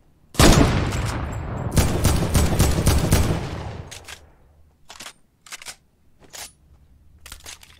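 Gunfire in the video game Fortnite: a loud, dense burst of rapid shots runs for about three seconds, then several separate shots or short volleys follow at irregular gaps, fainter and further apart.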